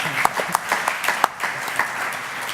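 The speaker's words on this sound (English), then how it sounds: "That's worth a clap." Audience applause in a conference hall, a steady wash of many hands clapping with a few sharper claps standing out, moderately loud and continuing through the whole moment.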